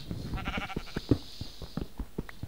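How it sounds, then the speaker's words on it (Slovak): Sheep in the video game Minecraft bleat repeatedly in short, separate calls, fairly close and moderately loud, with no talking over them. "Ovca! Mám tu ovcu!"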